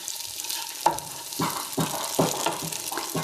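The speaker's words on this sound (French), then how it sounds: "Je vais surveiller le tofu. Il est en train de dorer" Tofu fries and browns in a pan with a steady close crackle, broken by a few louder sizzling bursts and spoon knocks as it is turned.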